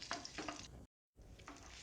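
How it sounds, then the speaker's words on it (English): Finely chopped onions fry in a pan over medium-high heat, a soft crackling sizzle broken by a few scraping stirs, with a brief gap of silence partway through. "Now we will add the fine chopped onions. We will saute them till they change its color."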